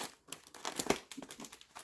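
Scissors cutting through a tape-sealed FedEx package wrapped in bubble wrap, with crinkly crumpling and tearing bursts in a quick irregular series, fairly close and moderately quiet.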